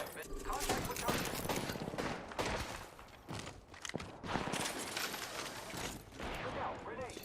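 Gunfire from Apex Legends rattles through a busy, dense mix of shots and game noise, with a voice talking over it almost throughout.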